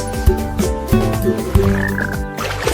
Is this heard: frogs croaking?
yes